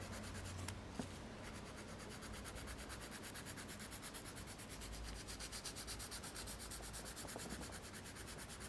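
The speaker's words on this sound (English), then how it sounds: "Now we're going to file the whole area that we did at the beginning." A nail file rubs back and forth across a fingernail during a finishing routine, giving a steady, continuous rasping scrape close up with a fast even rhythm and no talking.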